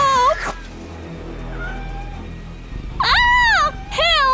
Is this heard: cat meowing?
yes